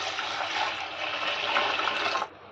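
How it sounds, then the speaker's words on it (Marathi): Water pours steadily onto coarsely ground wheat in a bowl for wheat kheer, a close, loud continuous gush lasting about two seconds before it cuts off abruptly. "त्याच्यामध्ये आपल्याला पाणी ओतायचं आहे"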